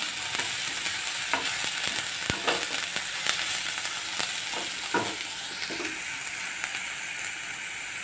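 Mutton browns in a pan with little oil, a continuous close sizzle marked by repeated scrapes and taps of a spoon as the pieces are turned, with no speech.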